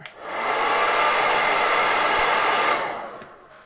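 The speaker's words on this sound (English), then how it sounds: "Hit it with a hairdryer" Hairdryer blowing over freshly painted miniature armour, a loud steady whoosh that swells up quickly, holds for a few seconds, then winds down and cuts off.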